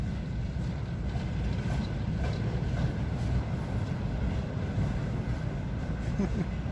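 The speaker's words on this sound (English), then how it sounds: "Oh hey, train." A train rolls past near a frozen forest river in winter, making a steady low rumble and rattle of wagons on the rails that continues throughout, loud and close, with no talking.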